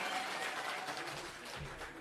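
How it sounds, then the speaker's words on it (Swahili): A crowd at a political gathering applauds former MP Lempurkel, a short burst of clapping of moderate loudness with a background murmur. "Tupigie Lempurkel makofi."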